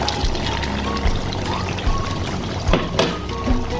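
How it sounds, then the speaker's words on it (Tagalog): Potatoes going into a pot of boiling chicken, with continuous bubbling and pouring liquid sounds broken by several soft splashes and knocks, heard up close. "Isunod natin ilagay ang ating patat."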